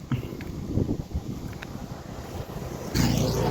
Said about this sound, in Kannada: ಗಾಳಿ ಮಾತ್ರ ಒಳ್ಳೆ ಬರ್ತಿದೆ